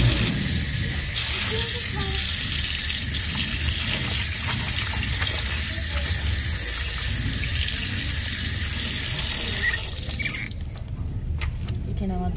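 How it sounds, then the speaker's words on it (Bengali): Tap water runs steadily into a sink while small chicken pieces are washed for a stew, a continuous close gushing stream that cuts off near the end, leaving quieter drips and handling sounds. "এই যে চিকেনটাও ধুয়ে নেবো।"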